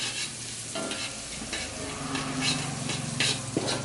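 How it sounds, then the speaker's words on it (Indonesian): Ingredients for crispy tofu with salted egg sauce sautéing in a pan, with a close, steady sizzle under repeated stirring and scraping strokes, and no talk. "Nah, ini kita tumis sampai harum."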